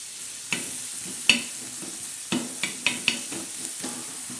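Green chili, garlic and tomato chutney being crushed on a flat grinding stone: a series of irregular, sharp knocks and grinding scrapes, close and moderately loud, with no talking.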